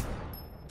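A rapid burst of gunfire rattles through a tactical shooter set in Bolivia, dense and continuous across the moment with sharp high crackles, fairly faint overall.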